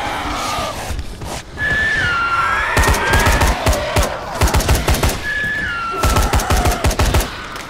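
Bursts of rapid gunfire in the co-op zombie game Dying Light come close and loud in repeated volleys, mixed with whining in-game cries and screams between the shots.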